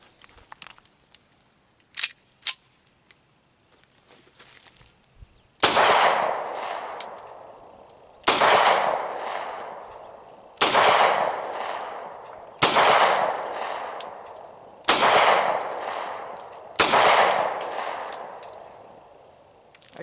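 A 1911 pistol test-fired with handloaded rounds, six loud sharp shots spaced about two seconds apart, each followed by a ringing echo decay, preceded by a few faint clicks and handling noises.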